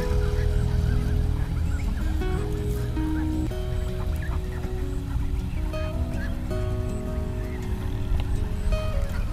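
Flock of black-feathered Hoa Lan (Muscovy) ducks calling on a farm, a dense overlapping chorus of honking and squawking calls, close and continuous.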